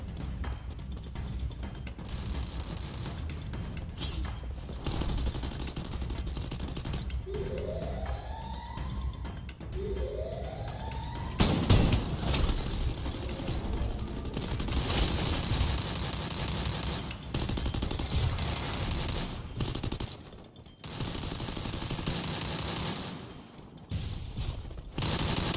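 Gunfire in Free Fire rattles in rapid bursts with sharp close shots, layered over game music and effects including rising siren-like sweeps, with no voice heard.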